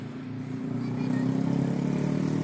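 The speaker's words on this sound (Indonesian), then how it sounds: "Tuh para layangnya, para motor RC." An RC paramotor's small engine drones steadily in flight, a buzzy mid-pitched hum with a slight rise in intensity, heard alone at moderate distance.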